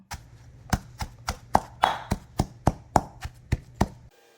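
A pestle pounds homemade Thai beef curry paste with shrimp paste and toasted coriander seed in a mortar, landing about a dozen loud, evenly spaced thuds, each one crisp and alone.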